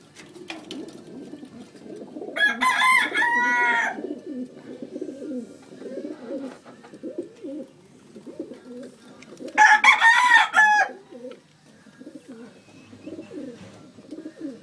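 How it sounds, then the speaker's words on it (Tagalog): Gamecock roosters crow in two loud, close bursts several seconds apart, over a background of softer clucking, cooing and bird chatter. "Tayo sa mga barako."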